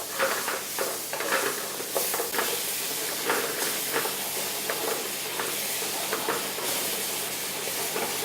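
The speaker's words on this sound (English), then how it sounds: "now you're ready to add your fine chopped tomato" Fresh chopped tomato cooking with spices in a pan in an Indian restaurant kitchen, giving a continuous hissing sizzle with soft stirring scrapes, close and steady throughout.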